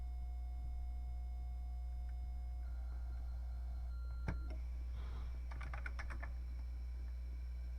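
Keys tapped on an Amstrad CPC 464 computer keyboard, a few sparse clicks and then a short quick burst of typing, faint against a steady electrical hum with no talking.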